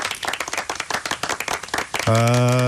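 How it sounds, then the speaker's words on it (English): A radio studio audience claps in a quick rhythmic burst of distinct hand claps, loud and close, which stops abruptly as a sustained electronic jingle tone takes over. "Round of applause."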